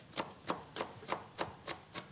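Sharp, regular knife chops finely cutting parsley and dill on a cutting board, about seven evenly spaced strikes, close and fairly quiet.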